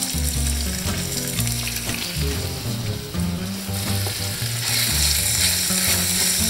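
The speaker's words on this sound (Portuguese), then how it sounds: "Vamos então quase fritar este bacalhau." Salt cod (bacalhau) sizzles loudly and continuously in a hot pan, with stirring and a low tonal hum underneath, close and unbroken.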